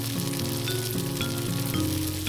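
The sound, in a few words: hazelnut pieces toasting and being stirred in a pan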